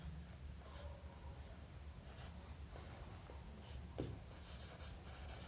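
Pen scratching on paper while a trigonometry proof is written out in a classroom-style math lesson, soft intermittent strokes with short pauses, quiet and close.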